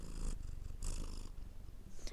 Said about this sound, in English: If you hear any background noise or meowing, it's because my cat's here.